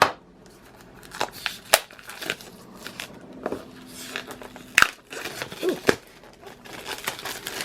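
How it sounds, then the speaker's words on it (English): Scissors snip into the plastic wrapping of a sketchbook from an art supply box, making irregular close crinkles, crunches and sharp cuts with short pauses between bursts. "I'm going to grab the scissors and get that edge started."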